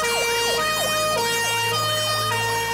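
A fire engine siren wails as the truck leaves the fire station, a loud continuous rising and falling sweep repeating steadily over an engine drone.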